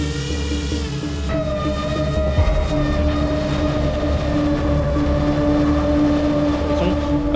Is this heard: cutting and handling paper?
no